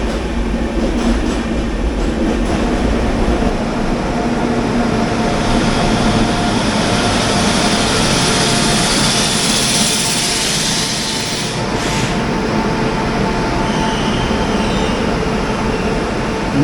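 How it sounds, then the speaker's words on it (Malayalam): The Mysore–Cuddalore Port Junction express train roars past at close range, a loud continuous rumble of wheels and carriages with steady clatter lasting the whole stretch, one brief dip near the end. "Mysore Cuddalore fort junction express, പഴയ മയിലാടുതുറ എക്സ്പ്രസ് ആണ്."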